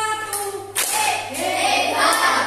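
A single hand clap in a classroom rings out among faint background voices and room noise, followed by a busy, broadband burst of activity.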